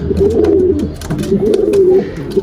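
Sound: Isbir flight pigeons cooing in new coop

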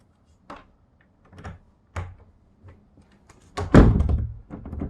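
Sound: room door being locked

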